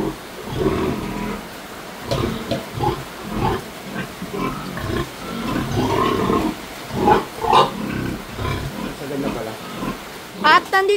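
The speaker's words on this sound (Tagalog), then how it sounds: "At ito po yung mga baboy po mga kajali." Pigs at a Filipino backyard farm during a typhoon grunt and squeal while being fed, busy overlapping snorts and feeding noise under people talking nearby.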